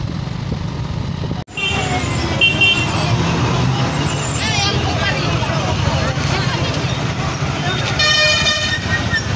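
Busy road traffic near a crowded Sunday market: engines rumble steadily while car horns toot repeatedly, with a cluster of loud honks near the end and background voices mixed in.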